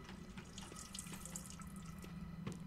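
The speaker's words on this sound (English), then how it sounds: "Oh yeah, taking a nice thoughtful shower at work." A shower runs in The Sims 4, giving a steady, faint hiss of spraying water with a few soft drips, with no voices.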